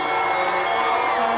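A crowd of children at an award event cheer and shout together, loud and continuous, with excited whoops rising over the noise.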